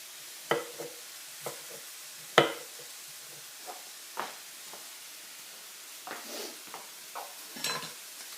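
Mushrooms sautéing in a pan, with a soft sizzle under a series of scattered, fairly close scraping stirs and light utensil knocks against the pan, and no talk.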